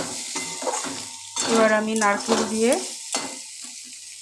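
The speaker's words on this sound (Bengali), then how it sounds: "দেখো চিচিঙ্গা আলুটা ভাজা ভাজা হয়ে এসছে" Snake gourd and potato frying in a pan and being stirred: a soft sizzle with scraping strokes of a utensil against the pan, while a voice talks over it.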